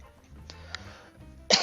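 A man coughs a couple of times, short throat bursts spaced apart, then a louder harsh cough at the end, close to the mic, with faint room noise between.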